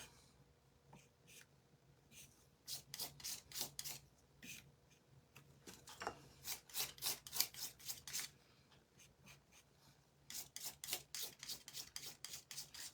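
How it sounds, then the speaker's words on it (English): A palette knife scrapes a light coat of paint across a vintage frame in repeated rasping strokes, close and fairly faint, with rhythmic runs separated by short pauses. "I'm just putting a very, very light coat of paint on here and just kind of scraping it over"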